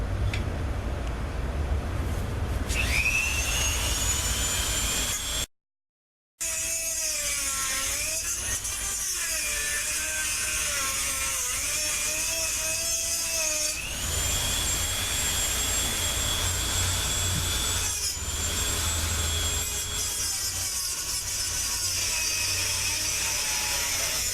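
A power tool cuts through metal in a long, loud whining grind with shifting pitch and one brief break, running steadily close by with no talk.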